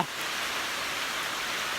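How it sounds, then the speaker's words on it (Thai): Steady rain hisses evenly throughout, a dense, continuous patter with no voices or other sounds. "แต่มันฝนตกขึ้นมาแล้ว"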